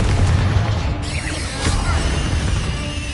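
A Confringo blast spell going off in the Hogwarts Legacy video game: a loud booming burst with crashing, crackling debris, then a second impact and lingering rumble, heard on its own without speech.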